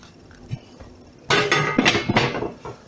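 A metal cauldron (kazan) set down into the ring of a cooking stove, giving a heavy metallic clunk followed by a few scraping, knocking contacts as it settles, close by and loud.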